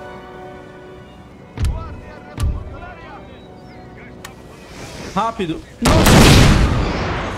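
Cannon artillery fire in Total War: Napoleon, with a couple of sharp booms early and a heavier, louder blast near the end, amid battle noise and someone talking.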